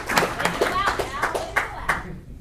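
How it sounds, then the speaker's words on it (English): Applause at a county freeholder meeting in Linden, a thin spread of distinct hand claps at a moderate distance, fairly sparse and fading out near the end. "let's give a big round of applause to every single person that works for the County of Union and county manager"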